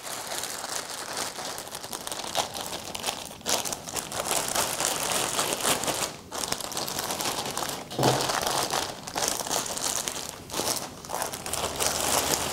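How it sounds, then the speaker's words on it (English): A fabric Mayo stand cover is handled and folded in a surgical technology setting, producing continuous close crinkling and rustling with brief pauses, loud and alone without talk. "I'm going to turn it right side out and make this very"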